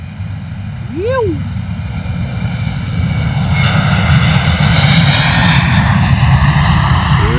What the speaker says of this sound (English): Here we go, Ryanair coming at us